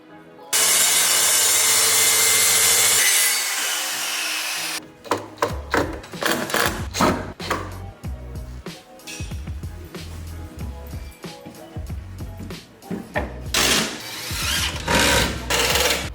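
Wood sawn for a DIY home office desk build: a loud, steady power-cut whine runs for several seconds, then a long stretch of rapid, rhythmic sawing strokes, close up and with no voices.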